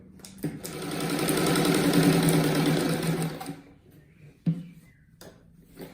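A sewing machine runs a long continuous stitch around the edge of a patchwork rug, whirring steadily for about three seconds before stopping, followed by a couple of sharp clicks and handling sounds.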